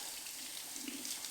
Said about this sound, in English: I'm going to rinse the whole thing off. Get all the salt off of it. Rinse.